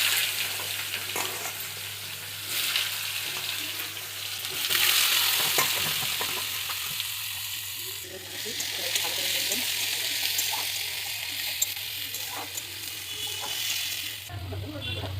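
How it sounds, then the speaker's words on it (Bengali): Mixed vegetables such as radish, aubergine, potato and greens fry in hot oil with dried red chillies and panch phoron, a steady loud sizzle with stirring and scraping throughout, and faint voices in the background. "এখন তেল গরম হয়ে গেছে এখন দিয়ে দেবো দুটো শুকো লঙ্কার পাঁচফোড়ন এবার সবজিগুলো দিয়ে দেবো"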